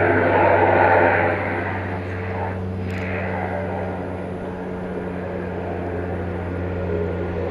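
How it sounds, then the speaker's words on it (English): A Cessna Super Cargomaster approaching to land at DFW Airport at night, its steady propeller-engine drone loud and near, with a low constant hum underneath and a faint rise and fall. "It's a Cessna Supercargo"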